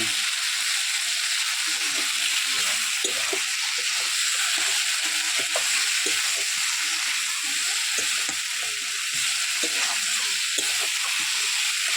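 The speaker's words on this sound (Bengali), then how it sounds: "মাংসটা প্রায় ভাজা ভাজা হয়ে গেছে।" Chicken legs frying in a pan, a steady close sizzle and crackle that runs unbroken, with occasional light stirring clicks and no talking.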